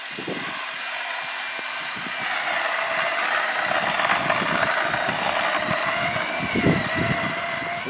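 A steady motor drone from a homemade cordless ice auger runs throughout as it grinds into wet, layered ice, with uneven crunching and knocking underneath.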